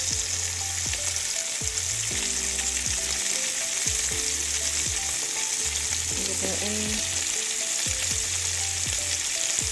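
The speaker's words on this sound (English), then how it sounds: "now I'm gonna add some onion. I'm gonna add the sweet peppers." Onion and sweet peppers fry in a pan with a loud, continuous sizzle. Intermittent stirring scrapes and clinks come through close up, with no talking.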